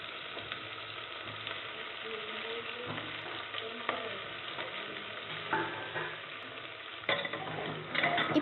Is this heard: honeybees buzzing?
no